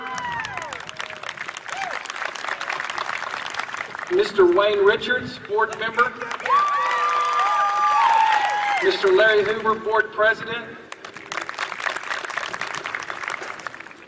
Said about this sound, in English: Would you please give these individuals a round of applause as well